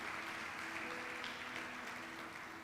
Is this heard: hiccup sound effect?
no